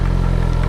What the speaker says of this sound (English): Who says you can't off-road on a Gsxr?